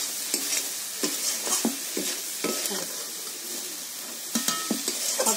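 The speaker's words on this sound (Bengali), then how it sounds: "এটা সবসময় নাড়তে হবে, নাহলে নিচে বসে গেলে লাল হয়ে যাবে" A spoon stirring coconut sandesh mixture in a wok, producing a series of scraping strokes in uneven rhythm, with a soft sizzle underneath, close and fairly quiet.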